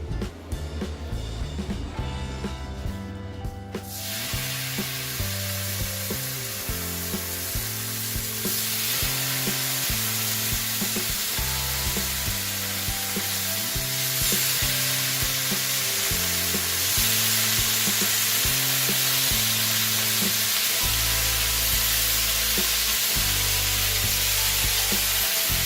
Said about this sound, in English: Now start by laying on your 8 strips of bacon.